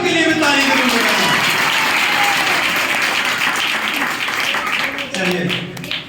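Audience applause at a celebration gathering in Gurgaon, Haryana, a loud full burst of clapping with voices mixed in, dipping briefly near the end before picking up again.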